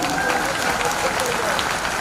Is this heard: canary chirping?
no